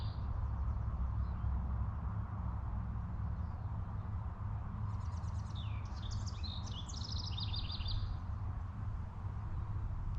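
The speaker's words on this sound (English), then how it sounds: "just the sound of the wind blowing, the birds singing" Birds singing in a botanic garden, a brief burst of chirps and trills midway over a constant low rush of wind, fairly faint and distant.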